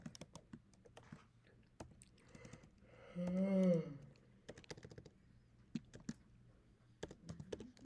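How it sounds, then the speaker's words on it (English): Typing on a computer keyboard, with quick scattered keystrokes close by and one brief louder burst in the middle. "I'm going to type in the next one."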